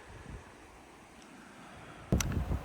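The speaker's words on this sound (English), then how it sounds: "It is quite windy though" Low rumbling wind on a beach buffets the microphone, faint at first and then gusting louder in the last half second.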